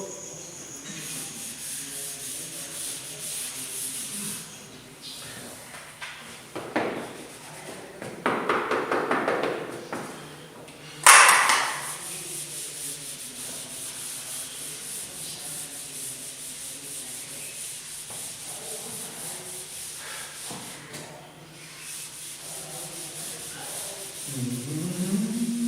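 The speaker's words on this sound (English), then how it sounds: "let me rub the board" A board is rubbed clean with an eraser in a classroom, the scrubbing coming in several short bursts of rough rubbing with a sharper knock partway through, close by, with quiet pauses between strokes.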